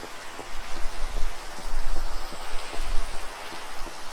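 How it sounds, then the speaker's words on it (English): In Minecraft with shaders, rain falls as a steady hiss of noise, with small drops pattering on surfaces. The sound stays fairly loud and even throughout, with no voices over it. "I don't think I've ever seen it in the rain before."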